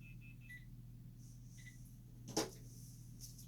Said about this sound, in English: My phone was getting noisy.